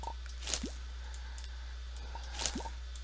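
Watering plants in a cozy farming video game gives two short squishy splashes with drip-like plops, each a quick liquid burst about two seconds apart over a steady low hum.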